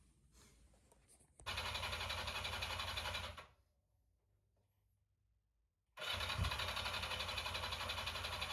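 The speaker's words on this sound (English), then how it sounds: "I had some problems with that the bike didn't want to start up." A Yamaha XJ 400 motorcycle engine cranks in two long bursts of starter whirring, separated by a few seconds of near silence, without catching and settling into a run.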